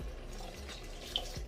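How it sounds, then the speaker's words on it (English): Water poured into a pot of jambalaya rice during home cooking, a soft steady trickle and splash heard close up with no talking. "So we're going to add a little bit more water"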